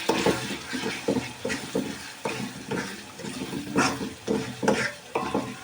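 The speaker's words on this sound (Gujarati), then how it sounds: "થોડુંક આપણે ધાણા જીરું એડ કરીશું અને હવે આપણે એને હલાવીશું" A spoon stirs dhaniya-jeera powder into chicken bhuna masala in a pan, making repeated scraping strokes over a soft sizzle, close and rhythmic, with no talking.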